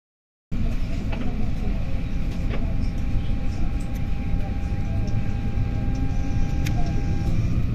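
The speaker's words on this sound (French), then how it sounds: "take a look at the mainline trains." Mainline train in Marseille, France, a loud steady rolling rumble from close by with occasional metallic clicks and squeaks over it, starting abruptly after a brief silence.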